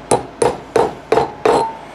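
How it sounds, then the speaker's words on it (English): Five sharp metallic hammer taps land about every third of a second as a small hammer drives a tool into a seized brake bleeder, each strike close and loud with a short ringing decay. "So then we'll just tap that in with a little hammer."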